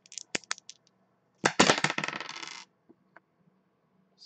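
Two dice rolled during a tabletop game session: a few light taps, then a loud burst of rapid rattling clatter lasting about a second, followed by a couple of faint settling clicks, close and with no talk.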